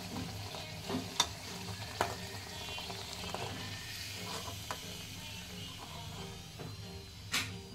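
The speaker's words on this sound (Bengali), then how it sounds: "তেলটা গরম হতে হবে, তাহলে আপনার পুরিটা অটোমেটিক এটা ফুলে যাবে।" Beetroot puris frying in hot oil, a low steady sizzle and bubbling with scattered sharp spatula taps and scrapes as they are turned.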